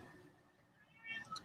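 Cat giving a couple of faint, brief meows at the very end, following a quiet indoor background.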